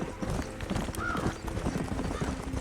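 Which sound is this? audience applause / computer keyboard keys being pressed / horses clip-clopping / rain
horses clip-clopping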